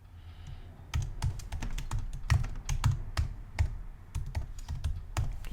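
Keys clatter on a computer keyboard nearby in quick, irregular bursts of typing, crisp and clear with no voices.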